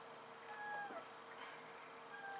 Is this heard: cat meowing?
yes